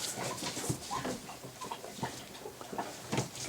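Bernese Mountain Dog puppies at 41 days old, faint soft whimpers and small rustling movements amid low background noise.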